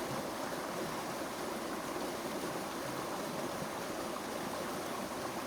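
A river running dreadfully low flows with a steady, even rush and hiss of water, continuous and moderately quiet, with no voices present.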